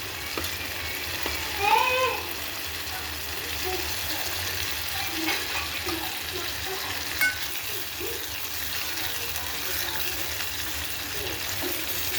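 Stuffed bitter gourd curry with water and curd being stirred in a pan, a steady frying sizzle with soft scraping of the spoon throughout, close and continuous.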